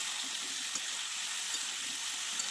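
Mixed vegetables of pointed gourd, carrot, eggplant and squash cooking in a wok, giving a soft, even sizzle with a few faint ticks from the pan and no voices.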